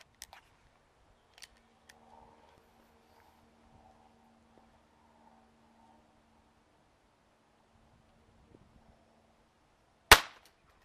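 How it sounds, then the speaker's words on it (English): CP88 air pistol firing a Prometheus PPP1 pellet into a ballistics gel block about six feet away: a single sharp, loud crack near the end, after a long stretch of near silence with faint clicks. "Going to shoot this block from about 6 feet away."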